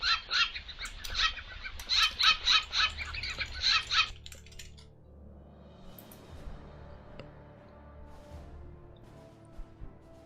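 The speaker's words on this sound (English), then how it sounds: "More birds." Birds squawking and calling in a burst of loud, rapid, repeated cries for about four seconds, then fading to quieter scattered chirps over a low background hum.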